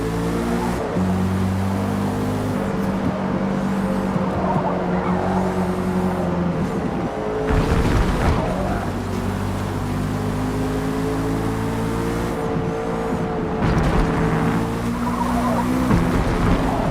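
A car skids on a foggy racetrack in Forza Motorsport, its engine droning steadily while tires scrub and squeal in two sharp surges partway through, loud and continuous with no talking.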